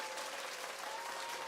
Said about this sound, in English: It's incredible applause, man.